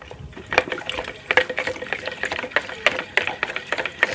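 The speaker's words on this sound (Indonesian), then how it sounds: "Air 150 ml kita campurkan, kita aduk sampai rata dulu." Water stirred into a cornstarch batter for rolled eggs produces quick wet sloshing and clinking strokes in an uneven rhythm, close by and moderately loud, with no voices.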